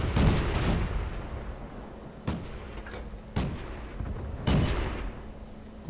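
Artillery gun in World of Tanks firing, a sharp booming shot heard several times at uneven intervals, each crack fading into a low rumble over a steady engine hum.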